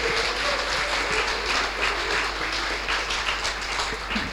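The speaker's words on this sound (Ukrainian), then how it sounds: "Будь ласка, оплесками." Dense, steady applause from an audience at a youth financial literacy tournament final, continuous clapping filling the hall throughout.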